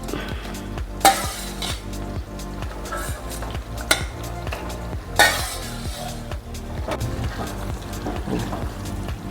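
Pasta being stirred into a white sauce in a pan makes a steady close scraping and stirring sound, with soft sizzling underneath and two sharp clanks from the utensil striking the pan.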